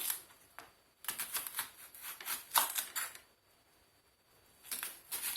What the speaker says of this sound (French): la première étape, ça consiste tout simplement à couper les oignons en lamelles